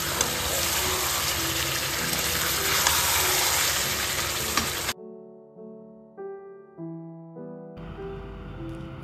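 Chicken frying with spices in a pan, a steady loud sizzle for about five seconds, then the frying drops away and a few soft tonal chimes and knocks follow, with no talking.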